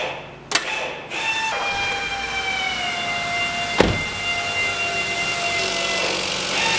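A Kia Soul with a suspected misfire idles high just after a cold start, a steady engine hum with a few sharp knocks near the start, heard close and with no talk.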